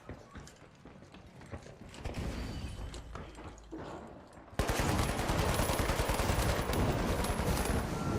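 Gunfire in a shooter video game: a dense, continuous volley of rapid shots that becomes loud and sustained partway through, following quieter, busier mechanical game noise.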